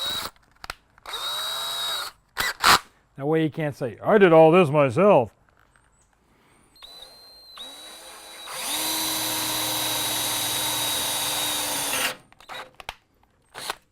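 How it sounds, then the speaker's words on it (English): A power drill bores out a spot weld, running as a steady high whine for about three and a half seconds at close range before stopping, with someone talking and brief tool noises earlier. "But I am going to drill a spot weld."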